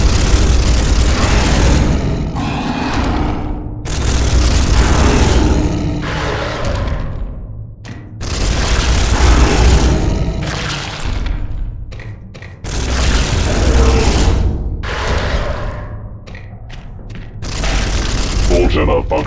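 Bolter firing and jamming in the 2013 Space Hulk video game, heavy booming bursts in long loud stretches separated by brief breaks, with a voice speaking over the din.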